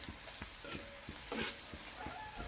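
Chopped onion fries in edible cooking oil with turmeric and chili powder, a soft sizzle broken by regular scraping stirs of the pan, with no one talking.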